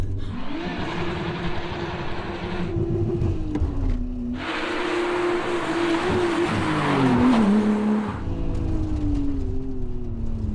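A Nissan Skyline R34 brakes and accelerates with a loud engine drone. The revs rise, dip, then climb again, and bursts of roaring exhaust come and go. The car is near and steady throughout.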